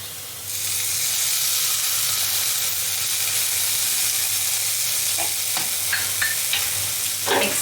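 Poha being stirred in a frying pan with lemon juice, a steady close sizzle and hiss with scraping stir strokes and a few sharper clinks toward the end, no talking.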